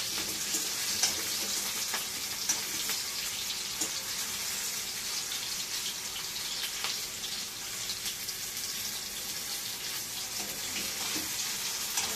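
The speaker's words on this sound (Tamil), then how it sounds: "கத்திரிக்காய் சேர்த்து நல்ல சுருளை வதக்கிக்கோங்க" Brinjal pieces for chutney sauté in a hot pan, giving a steady, close, even sizzle that runs the whole time with faint stirring.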